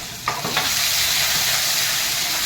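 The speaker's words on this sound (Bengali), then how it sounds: "তারপরে এই রসুনটা তেলের উপরে দিয়ে দেবো জিরে মরিচ শুকনো লঙ্কা গোলমরিচ আদার পেস্ট" Garlic with cumin, chili, dried red chilies, black pepper and ginger paste fries in hot oil for a spicy snail curry, giving a loud, steady sizzle with a few brief stirring scrapes near the start.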